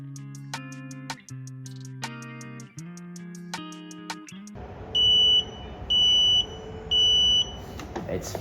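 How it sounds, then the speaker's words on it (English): Three loud, steady electronic beeps from a Wevac CV12 chamber vacuum sealer, each lasting about half a second with short gaps, ringing out over the machine's low vacuum-pump hum after a stretch of music. "press the seal button after you hear the beep sound in any of the vacuuming process"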